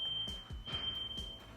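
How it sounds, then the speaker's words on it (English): A smoke-triggered fire alarm sounds indoors as a continuous high-pitched electronic tone, fairly faint, with low thumps and bumps of movement underneath. "Tim set off the fire alarm."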